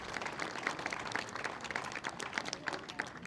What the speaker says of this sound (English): getting the biggest applause of the day